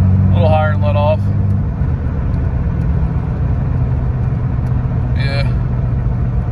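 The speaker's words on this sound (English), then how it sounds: "Almost like I'm on rumble strips, so I really think I got some bad U-joints." A 2002 Ford Ranger pickup with worn U-joints drives along with a constant low, rough rumble and road noise filling the cab, while someone talks briefly over it.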